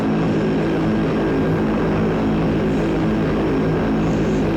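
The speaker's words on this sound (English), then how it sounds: "Some planes following me." A propeller-driven turboprop airplane in a flight video game drones steadily and loudly throughout, a constant engine hum with no breaks and no talking.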